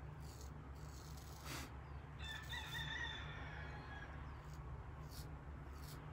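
A rooster crows once, loud and fairly close, over a steady low outdoor hum with a few other bird sounds, and no one speaks.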